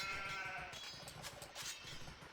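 Sheep bleat in Age of Empires II, several wavering calls at moderate volume over soft background game noise.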